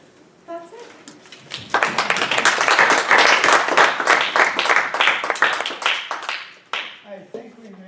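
An audience claps through a university class session, the applause building quickly to a loud, dense burst of many hands and then tapering off, with voices briefly audible at the start and at the end.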